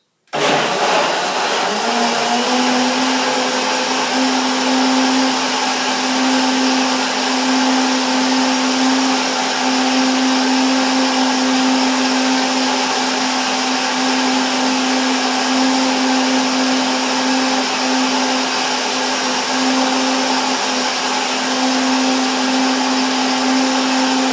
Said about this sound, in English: Soaked overnight, they will be soft and gentle now and easy to blend.